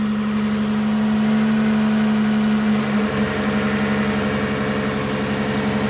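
Toyota Camry 30 with LPG gas equipment idling just after a cold start, a steady close-up engine hum with a strong even drone, with no voices.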